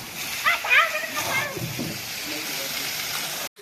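Water splashes and sloshes as a tractor is washed at a new showroom, in short bursts close to the microphone, with people talking over it.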